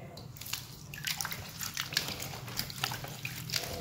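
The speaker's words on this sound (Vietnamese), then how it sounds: "bây giờ mình sẽ vớt ra để mình đem đi rửa lại để mình thái nó" Celery rinsed under running water in a kitchen: a steady close splashing stream with irregular sloshes and drips throughout, loud and continuous, with no talk.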